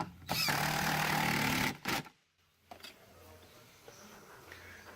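A power tool drives bolts while a car window is installed, giving a loud continuous whirring buzz for under two seconds, then a short second burst before it stops, leaving quiet handling noise.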